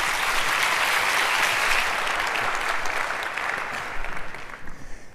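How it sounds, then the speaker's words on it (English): A large audience at the Cannes Lions festival applauds as speakers take the stage: dense, steady clapping that holds strong, then thins slightly and turns more uneven toward the end. "Round of applause, please."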